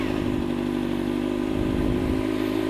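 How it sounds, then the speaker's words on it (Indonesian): A motorcycle fitted with a Leovince aftermarket exhaust runs steadily with a low, even engine drone, a milder and quieter tone than a loud racing exhaust, continuous and close throughout. "sekarang kita bakal nyalain dengan knalpot Leovins"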